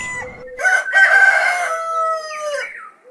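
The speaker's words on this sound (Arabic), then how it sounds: "ديك." A farmyard rooster gives one long, loud cock-a-doodle-doo, close by and clear, with the strained call rising and trailing off over about three seconds.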